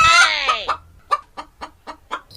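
Cartoon chickens on a farm in a folk-tale animation: a loud squawking call slides downward, followed by a steady series of five evenly spaced clucks, near and clear with no talking.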